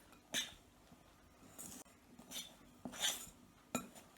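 Knife working buttermilk fruit scone dough in a mixing bowl, a few soft scrapes and light clinks against the bowl at irregular intervals, quiet and close with no talk.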